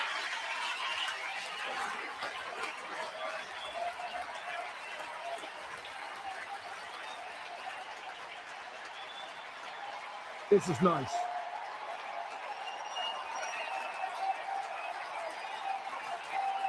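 A baseball stadium crowd applauds pitcher Cristopher Sanchez during a 1-1 game, a faint, distant and steady wash of clapping and crowd noise, with a short spoken remark partway through.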